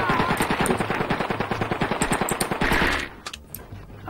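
Gunfire in the video game Blood and Bacon comes as a rapid automatic stream of close, loud shots lasting about three seconds, then a few scattered single shots after it stops.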